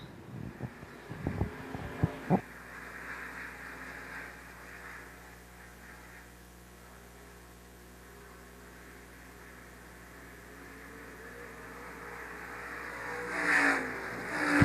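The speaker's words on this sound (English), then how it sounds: "Halfway through the heat race, Keith Knopp looks to be in control as everybody settles in" Stock cars racing through a heat race at Shelby County Speedway, engine roar loud at the start, then fading to a distant drone and swelling again as the field comes back around.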